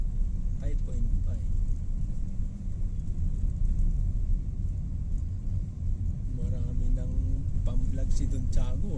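Vehicle traffic on a rough, potholed road in Bulacan, with a steady low rumble of a car passing close by throughout and a voice talking over it partway through.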